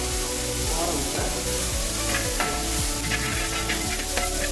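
Chopped onions fry in a pan until golden, with a steady close sizzle and repeated scraping stirs throughout.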